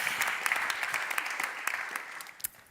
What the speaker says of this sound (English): Please give him one applause